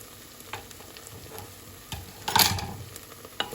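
Rice being stirred in a pan with dark soy sauce, soft scraping and gentle sizzling with a louder burst of stirring midway, no talk.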